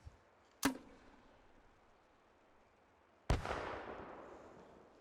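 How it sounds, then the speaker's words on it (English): M79 grenade launcher in the video game Red Orchestra 2: a sharp launch thump, then about three seconds later a loud high-explosive blast with a long rumbling tail, heard alone. "So after 30 meters, the high explosive shell will arm and it'll blow up"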